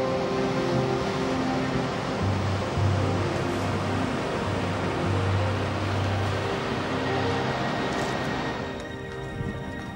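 An icy snow-melt river rushes past in a steady, loud broadband roar, close by and unbroken, easing slightly toward the end with no voices over it.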